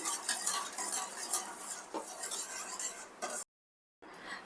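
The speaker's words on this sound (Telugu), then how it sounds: "ఇలా వెడల్పు బౌల్ అయితే ఈజీగా మిక్స్ చేసుకోవచ్చు అనమాట" Mysore bonda batter mixed in a wide bowl, close wet stirring and scraping of a spoon against the bowl in uneven strokes, briefly cutting to silence before the stirring resumes.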